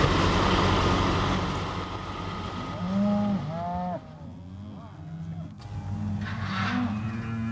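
Several yearling cattle moo and bellow at close to middle distance during sorting, overlapping calls rising and falling over a rumbling background of cattle truck engines and movement.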